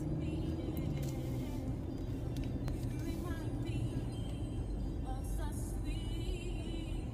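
Inside a car stuck in a line of backed-up traffic: a steady low engine and road rumble fills the cabin, with faint passing-vehicle whooshes and a few light clicks.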